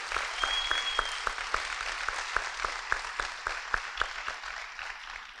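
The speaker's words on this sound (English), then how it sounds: "give him a round of applause for that" An audience at a fire department awards ceremony applauds a retiring city attorney, with a steady crowd clap and one person's louder, rhythmic claps standing out near the front.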